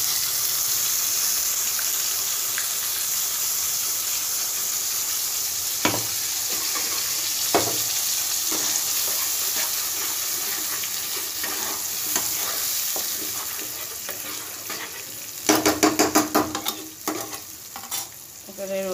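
Onion paste sizzles steadily in hot oil for Bengali mutton kosha, with a few sharp stirring scrapes midway and a burst of quick spoon clatter near the end.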